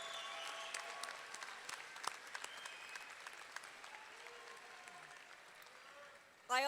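Sustained applause from a large crowd at a high school graduation ceremony, steady clapping throughout at moderate distance, with a sharper burst of nearby claps at the very end.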